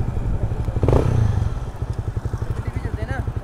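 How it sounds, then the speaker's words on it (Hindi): A loud Honda CBR250R motorcycle with a loud exhaust rumbles close by, surging briefly, then settling into a pulsing, throbbing idle as the revs drop, with voices in the background. "एक्सलेटर देखिए, जब छोड़ते हैं ना रेस, जब साउंड गिरता है ना वो बहुत अच्छा लगता है इसका।"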